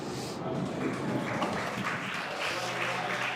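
A pub skittles crowd applauds a player winning the first leg, with dense, steady clapping heard at moderate distance throughout, set against the background hubbub of the room.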